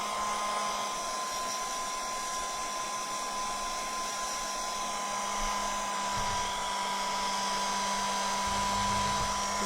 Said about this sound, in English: we'll give that a little bit of a blast dry